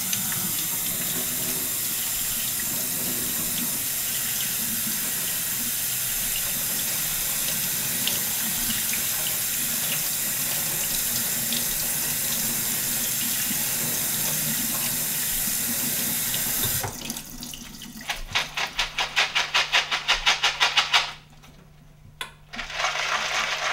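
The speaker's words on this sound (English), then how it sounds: "So it's once again a matter of rinsing and draining thoroughly." Running tap water pours steadily while sprouting beans are rinsed, then the flow stops and the beans drain with splashing and trickling; close and continuous, with no voices.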